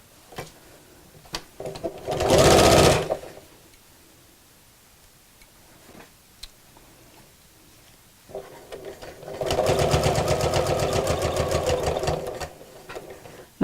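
A sewing machine stitches the corners of a fabric phone charger holder in two short bursts of rapid, close mechanical whirring, separated by quiet handling sounds.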